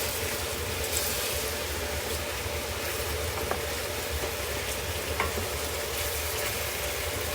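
Fish frying in a small amount of oil in a pot for fish soup, a steady dense sizzle with a few faint clinks as it is moved around, close and continuous without talk.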